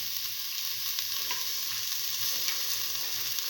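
Salt and turmeric powder are stirred into a frying lentil and cucumber rice mixture in a pan, giving a steady soft sizzle with faint scraping stirs throughout and no talk.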